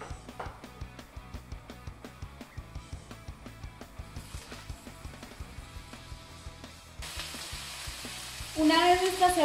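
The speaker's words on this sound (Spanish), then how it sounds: "la mitad de ella la vamos a utilizar para sofreír la cebolla en ella" Onion frying in oil in a pan for a Spanish tortilla gives a steady, close sizzle with rhythmic stirring clicks, building louder and brighter near the end.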